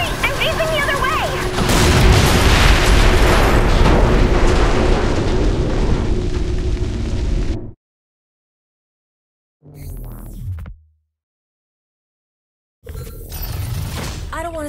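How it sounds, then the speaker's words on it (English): A capital ship blowing up in Saints Row 4, a long loud roaring explosion with crackling debris that cuts off abruptly, followed by a short burst of sound and then more rumbling blasts after silence. "I just blew up a capital ship"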